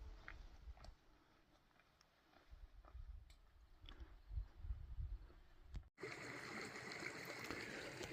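Manter Creek, a small brook beside tent sites on the Pacific Crest Trail, runs with a faint, steady trickle and gurgle. Partway through, a louder and brighter rush of flowing water takes over.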